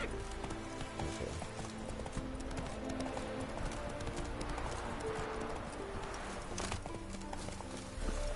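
Roach the mare gallops in The Witcher 3, a rapid, rhythmic clip-clop of hooves running steadily throughout, with faint bird calls and game ambience in the background.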